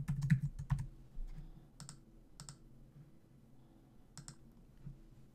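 A password is typed on a computer keyboard: a quick cluster of close key clicks, then a few sparse taps spaced apart, faint against a quiet room hum.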